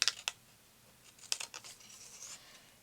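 Scissors cut out a paper embellishment for a scrapbook page, giving a few crisp, quiet snips and paper rustles in short clusters, close and faint.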